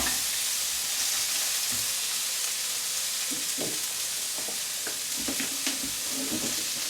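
Vegetables stir-frying in a hot wok with a little oil give a steady, close sizzle throughout, with scattered clacks and scrapes from stirring and no talking.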